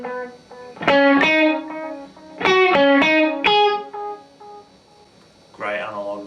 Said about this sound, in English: great analog delay sound, so great for any kind of rock and roll kind of stuff. Just gives a nice slap back.